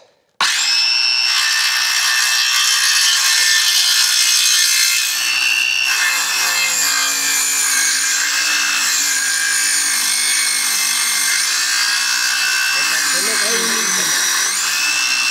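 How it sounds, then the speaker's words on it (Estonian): A saw cuts through a sturdy wooden beam with a loud, continuous rasping grind that holds steady, close-up, for about fourteen seconds. "ega see ei ole tegelikult mõeldud brussi saagimiseks"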